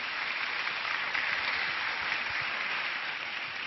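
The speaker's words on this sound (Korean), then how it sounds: "나오실 때 큰 박수로 환영하도록 하겠습니다" A church congregation at Onnuri Church applauds to welcome the pastor to the pulpit, a loud, continuous roar of clapping that stays even and unbroken for the whole stretch.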